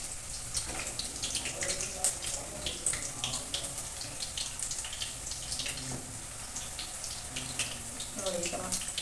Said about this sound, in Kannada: ಸ್ವಲ್ಪ ಫ್ರೈ ಆಗಲಿ, ಅದು ಗುಳ್ಳೆಗಳು ಬರೋದು ನಿಲ್ಲಿ ಸ್ವಲ್ಪ.